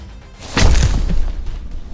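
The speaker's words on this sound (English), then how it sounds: "You hear the thud as it lands." A single heavy thud from a fantasy ogre landing on the ground, a sound effect in a tabletop role-playing game: one loud, low, close impact that rings briefly before fading into a soft background rumble.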